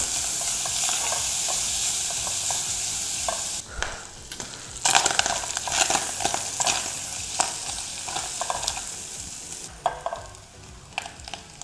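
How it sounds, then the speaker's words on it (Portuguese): Bacon fries in a pan with extra fat and butter, a loud continuous sizzle close by, broken by bursts of stirring and scraping, with no talking. "Eu gosto de ampliar o sabor do bacon quando ele está fritando com um pouco mais de gordura"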